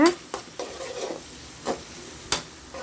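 Tomatoes stirred into frying onions and green chillies in a pan, with a few distinct scraping stirs and soft sizzling in between, close and fairly quiet, no talking.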